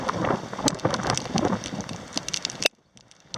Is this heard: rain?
yes